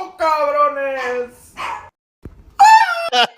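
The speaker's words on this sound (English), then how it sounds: "With the little dog barking in the background" Small dog barking and yipping in the background while someone talks loudly and excitedly over it, with a few high, sharp yelps breaking through near the end.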